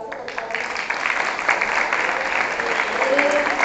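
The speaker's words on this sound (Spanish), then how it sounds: "Un fuerte aplauso" Sustained applause from an audience at a political ceremony in Ensenada, dense steady clapping filling the room with a faint voice mixed in underneath.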